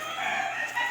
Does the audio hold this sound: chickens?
yes